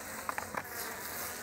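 Honey bees at the hive give a few brief, faint buzzing bursts close by, over a quiet background.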